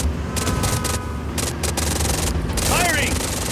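Gunfire rattles in Just Cause 4 as automatic weapons fire in rapid bursts with booming impacts, loud and close, while a voice shouts over the shooting.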